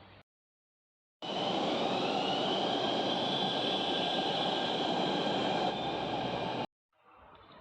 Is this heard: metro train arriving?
yes